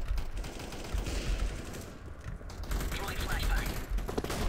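Rapid bursts of automatic gunfire in Counter-Strike: Global Offensive, a dense crackling stream with a brief lull midway, heard at moderate level.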